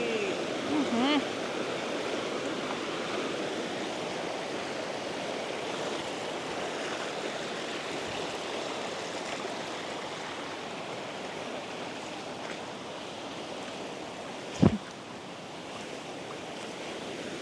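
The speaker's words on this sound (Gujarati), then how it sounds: "હવે આવું પાણી ક્રોસ કરીને જવાનું છે" Water rushes over rocks at a stream crossing near Zarvani, close to the Statue of Unity in Gujarat. It makes a steady, unbroken roar at moderate distance, with one brief sharp knock near the end.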